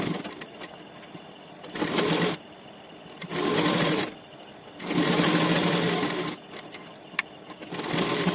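A sewing machine stitches the collar of a men's half panjabi in four separate bursts of rapid, buzzing mechanical clatter, close and clear, with quiet pauses between runs and no talking.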